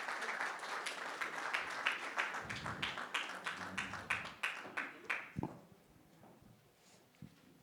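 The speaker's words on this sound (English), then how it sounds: "can we have a round of applause?" A room of people at a corporate panel event applauding in a steady burst of claps that tapers off over several seconds, ending in a few scattered claps.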